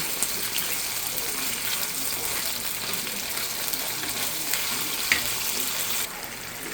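Shrimp frying in a hot pan, a loud, continuous close-up sizzle and crackle with faint stirring underneath, easing slightly near the end.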